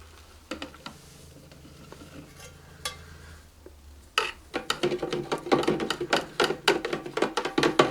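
A utensil stirs a homemade giant soap bubble mixture in a container, giving quiet scattered clinks at first, then a dense run of rapid, close scraping and tapping strokes that grows louder toward the end.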